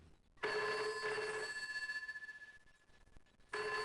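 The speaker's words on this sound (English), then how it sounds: "The telephone was ringing" An office telephone sitting on a desk rings with an electric bell, one long ring that trails off, a short gap, then the next ring starting.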